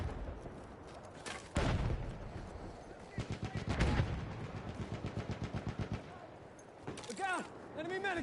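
An Automatico submachine gun hip-fired in a 12 v 12 team deathmatch, a long rattling burst of rapid evenly spaced shots after a few louder blasts, with in-game voices nearby.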